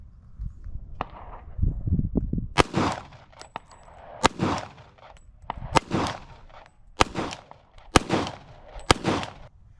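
Kimber pistol fired at an outdoor shooting line in the Arizona desert: about a dozen sharp, loud cracks in uneven bursts with short gaps, each followed by a brief echo.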